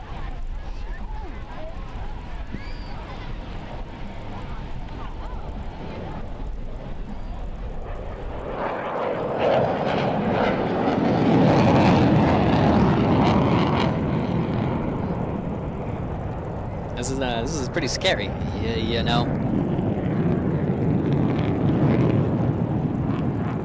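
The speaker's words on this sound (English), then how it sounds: "So we got the Super Hornets up in the sky right now. I hear it circling back around." F/A-18 Super Hornet jets over the Pacific Airshow at Huntington Beach, California: a loud jet roar swells in from around nine seconds and holds, with people talking over and around it.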